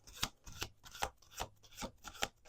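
Tarot cards shuffled by hand in a series of quick riffling bursts, about eight crisp papery ruffles in steady rhythm, close and moderately loud with no talking.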